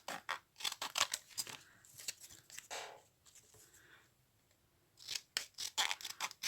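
Scissors snip through pieces of cardboard, a quiet close series of crisp cuts in irregular clusters with short pauses between, no voices.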